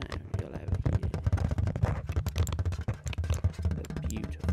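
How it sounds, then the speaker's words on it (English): Fingers tap a metal tin up close for ASMR, producing rapid, irregular clicky taps and knocks with a hollow resonance, dense and continuous throughout. "the best metal tapping in this multiverse."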